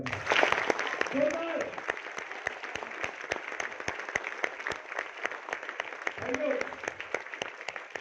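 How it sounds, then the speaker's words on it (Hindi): A training camp audience claps steadily with distinct sharp individual claps, while a voice talks faintly over it at the start and again later. "एक बार जोरदार तालियां हो जाए"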